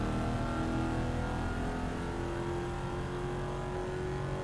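A car in Need for Speed Most Wanted on Android roars under nitro boost at high speed, its engine a loud, sustained, steadily rising drone with no talking over it.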